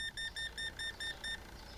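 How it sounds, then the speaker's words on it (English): Supermarket video game checkout scanner beeping slowly, a faint, evenly spaced series of about six short electronic beeps, each followed by a brief pause, over quiet background hum. "It's a very slow beeping sound."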